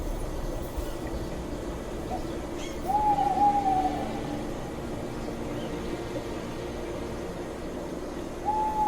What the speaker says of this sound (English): the Madagascar owl plays a vital role in maintaining ecological balance by controlling small animal populations